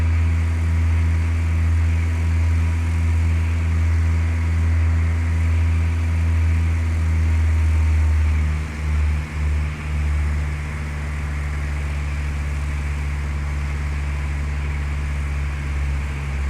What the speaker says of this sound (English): I want you to pull the throttle back and set the power for 2100 RPM on the tachometer.